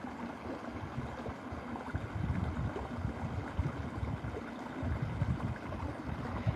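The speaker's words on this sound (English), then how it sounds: "I love the water, the sound." A stream in middle Tennessee flowing steadily, a soft continuous wash of moving water with low rumble, constant and moderately faint.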